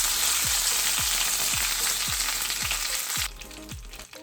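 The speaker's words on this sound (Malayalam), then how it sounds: "ഈ മീൻ വറുത്ത എണ്ണയിലേക്ക് തന്നെ കുറച്ച് കറിവേപ്പില ഇട്ട് കൊടുക്കുക." Curry leaves crackle loudly in hot oil left from frying pearl spot fish, a dense steady sizzle with low rhythmic thuds about every half second, thinning into quieter spattering near the end.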